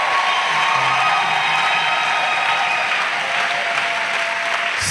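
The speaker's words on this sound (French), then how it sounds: "Clap offering to Jesus." Sustained applause from a church congregation offering claps to Jesus, a dense, steady wash of many hands clapping at once with faint cheering mixed in, loud and continuous throughout.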